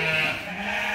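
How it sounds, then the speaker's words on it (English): Sheep bleating at a pumpkin patch farm, a single drawn-out nasal bleat heard fairly close and clear for about a second. "Can you hear all those sheep?"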